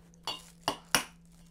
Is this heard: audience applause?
no